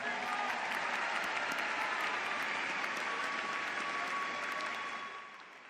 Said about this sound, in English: let's give them a round of applause if you don't mind